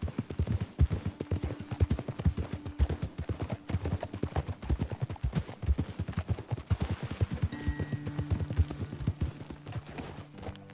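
Horses' hooves clop in rapid, steady rhythm on a trail in Red Dead Redemption 2, several horses galloping together close by, with a short burst of faint noise midway.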